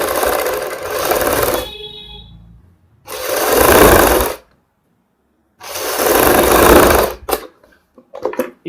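A sewing machine stitches a kurti neck in three loud, rasping runs of rapid stitching, each a second or two long with silent gaps between, followed by faint handling clicks.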